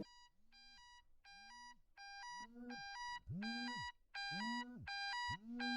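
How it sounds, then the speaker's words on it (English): A phone alarm tone plays straight into a microphone: repeated electronic beeping phrases with a sweeping lower tone, growing steadily louder and more layered with each repetition, close and clear with no voices. "This is my alarm. My alarm sounds fucking terrifying."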